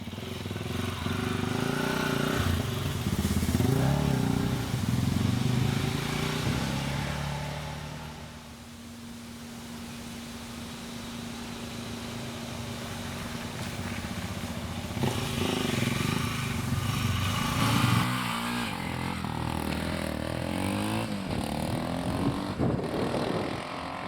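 A 2019 SWM Outlaw 500 motorcycle rides off-road over hills and around corners, its single-cylinder engine revving up and down with rising and falling pitch, loud and close, with a short easing of throttle midway before pulling hard again.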